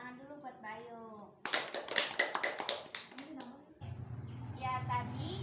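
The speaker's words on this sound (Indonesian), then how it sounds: "Oke, tepuk tangan dulu buat Bayu." Pupils in a classroom clap together for a classmate, a ragged burst of quick hand claps lasting a couple of seconds, framed by speech before and after.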